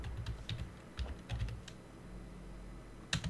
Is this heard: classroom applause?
no